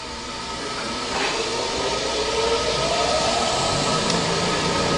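A 270-S spin rinser dryer spins at 500 RPM in its dry cycle, giving a loud, steady whirring hiss with a faint rising whine running underneath, constant throughout.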